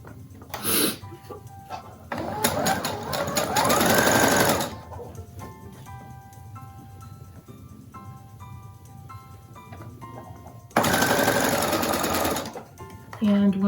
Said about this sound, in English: I just need to turn it around and sew the other side.